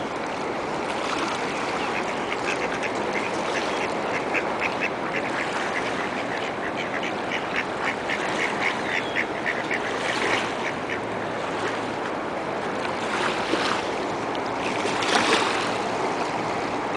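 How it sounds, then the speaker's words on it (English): Ducks and Canada geese on open water in Canada, a scattered run of fairly near quacks and honks over a constant wash of water and wind, with no talk. "Baby duck"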